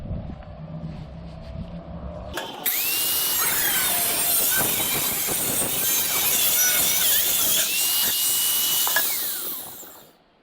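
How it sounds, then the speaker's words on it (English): A cutoff blade bites into steel trim for a garden box, a loud, harsh high-pitched screech of grinding metal that runs continuously for several seconds after a quieter start, then stops abruptly. "cut that 24 inches with your cutoff blade"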